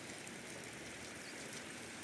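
Steady rain falling outdoors, a soft continuous patter and hiss of drops on surfaces, distant and fairly quiet with no voices.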